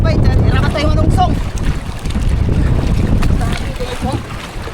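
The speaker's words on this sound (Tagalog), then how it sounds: "Malakas ang mahangin" Strong wind roars and buffets the microphone in loud, sustained gusts, with voices talking intermittently beneath the rushing noise.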